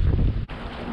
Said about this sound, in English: that's why it's so windy